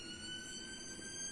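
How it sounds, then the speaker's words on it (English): Ambulance sirens near a hospital wail faintly and continuously in the distance under a steady hum, with no talk. "Excuse the sirens."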